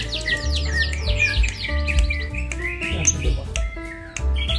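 Songbirds at a bird singing contest in Kampung Bugis, Tarakan, chirp and trill loudly and close, with rapid overlapping whistles and repeated tweets over a low background hum.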